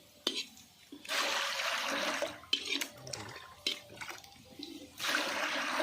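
Water gushes into a pot for biryani cooked at an outdoor picnic, poured in several long splashing bursts with short pauses and clanks between them.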